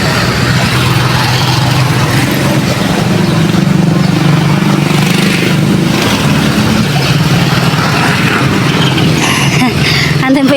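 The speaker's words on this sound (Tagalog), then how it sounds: "Andun po yung sasakyan" A vehicle arriving gives off a steady, fairly loud engine rumble that runs throughout, mixed with nearby voices and general outdoor noise.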